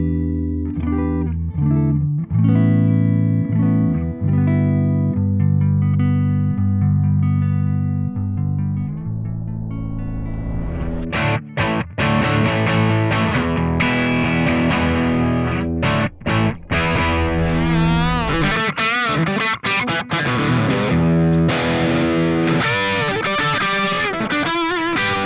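An electric guitar plays through a Soldano Astro 20 amplifier, starting with clean-toned chords and then switching to heavy, crunchy distorted riffs with choppy stops, loud and continuous throughout.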